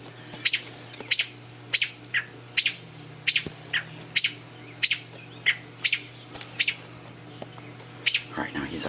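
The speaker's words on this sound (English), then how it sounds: "She started squawking, and then there's the male in the background." A robin near its nest gives sharp, repeated squawking chirps about once a second, a dozen or so calls, fairly close and clear over a faint low background hum.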